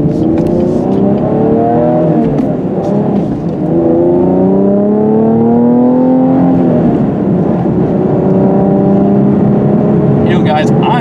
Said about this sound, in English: you can hear how great this Camaro sounds